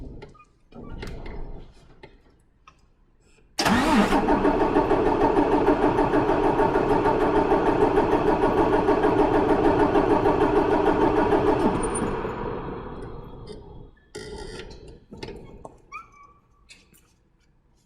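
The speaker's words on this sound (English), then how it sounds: "I'm gonna crank over the engine" Paccar truck diesel engine cranking over for a relative compression test, starting with a sudden loud onset and holding a steady rhythmic churn for about eight seconds before cutting off, with faint clicks and clatter before and after.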